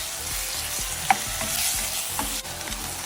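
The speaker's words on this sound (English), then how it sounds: "you're going to saute this until the beef is good and brown" Beef sautés and browns in a pot for Egyptian zucchini soup, a steady close sizzle with occasional scraping stirs and a sharp utensil clink.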